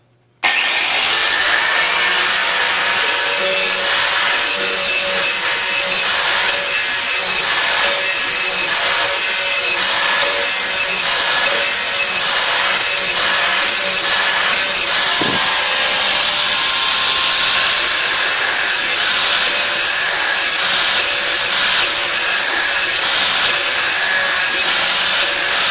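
Lawn mower blade from a Craftsman mower being sharpened, a steady, loud grinding whine that runs continuously for the whole stretch, with one brief bump midway and no talk.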